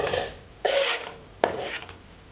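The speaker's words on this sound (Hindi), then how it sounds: "इसको हल्की आंच पे भूनना है और इसको चम्मच चलाते जाना है" Spoon scraping and stirring besan in ghee in a pan over low heat, three rasping strokes in a row, each starting sharply and fading, close and moderately loud with no talk.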